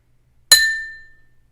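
An empty drinking glass, one of a set of musical water glasses, is struck once, giving a bright clink with a clear high ring that fades over about a second.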